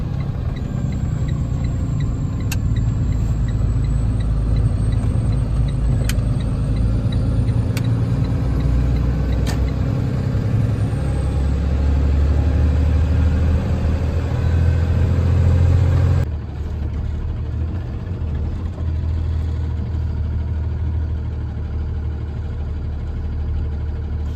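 A delivery truck's engine idles steadily with a low, continuous rumble that carries on loud for most of the time. Several faint ticks sound over it, and then the engine noise drops to a quieter hum for the rest.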